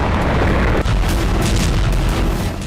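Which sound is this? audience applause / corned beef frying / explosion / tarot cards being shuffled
explosion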